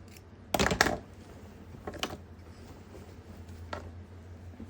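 Scissors snip thread after machine embroidery on an athletic quarter zip, a quick pair of crisp cuts followed by two fainter single snips in a quiet room.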